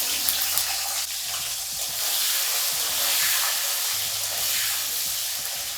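Potatoes cut into long slices fry in oil left over from frying katla fish, a continuous close hiss and sizzle that swells and eases with a few light stirring knocks.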